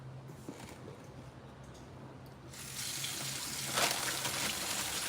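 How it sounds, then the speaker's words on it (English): Tap water runs into a sink as greens are washed before cooking, a steady low gush that swells louder and brighter about halfway through, with a low hum beneath. "So I'm having to wash these greens."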